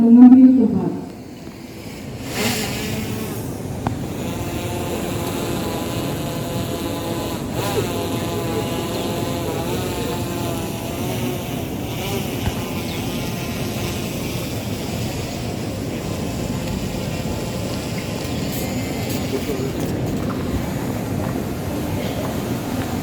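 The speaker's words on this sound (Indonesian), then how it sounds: "Drone balap ya? Jangan balap kali lah, bunyi audionya kena." A racing drone flies overhead at an indoor official inauguration ceremony for civil servants, giving off a steady buzzing propeller drone that holds at a constant loud level throughout.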